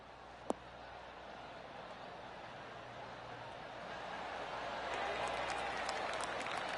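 Crowd applause swells at a golf course in the PGA 2K23 video game after a hybrid approach shot, a soft spread of clapping building gradually under a commentator's voice.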